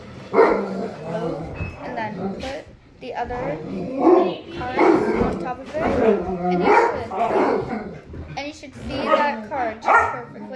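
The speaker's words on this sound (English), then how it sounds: "We have a neighbor dog that our dog likes a lot." A dog barks repeatedly in the background while a person keeps talking over it, the barks sharp and fairly close.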